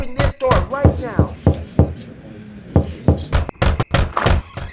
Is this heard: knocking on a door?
yes